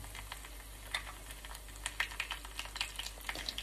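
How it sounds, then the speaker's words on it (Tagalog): Ham and cheese nori rolls fry in a small amount of hot oil, giving a faint, crackly sizzle with scattered soft pops. "kapag ready na lahat, pwede na natin to i-fry"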